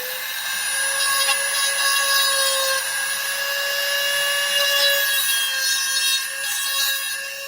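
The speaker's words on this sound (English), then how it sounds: "here's the Dremel. I'm going to turn it on for just a second" A Dremel rotary tool whines steadily at high speed for several seconds, its bright harmonic tone loud and close, running alone with no talk while used on diorama building work.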